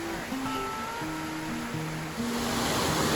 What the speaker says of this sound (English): Look, a waterfall.